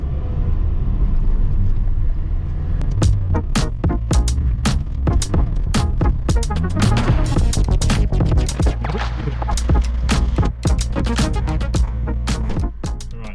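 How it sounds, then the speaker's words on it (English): A Mitsubishi Sigma engine with a 32/36 Weber carburettor and a stuck choke runs at high revs with a steady droning roar, punctuated by many sharp clicks and knocks close by. "Choke was stuck, that's why I was revving high."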